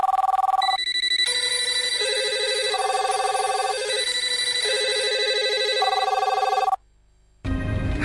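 A telephone rings in repeated electronic trills at a steady volume, alone with no talk, before cutting off abruptly near the end, followed by a brief burst of noise.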